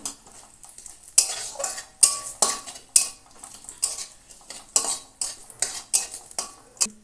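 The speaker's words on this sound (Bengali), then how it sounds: "একটু একটু তেজপাতা দিলাম দিয়ে ফোড়নটাকে ভেজে নেই একটু" Radhuni seeds and bay leaves frying as a tempering in hot oil, a soft crackle under repeated metal spoon scrapes and taps against the pan in an uneven rhythm, no talk.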